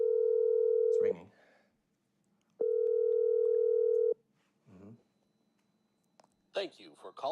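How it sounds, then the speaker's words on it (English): Ringback tone on a telephone line after dialing: two long, steady electronic tone bursts separated by a pause, with brief speech in the gap and more talking at the end. "It's ringing."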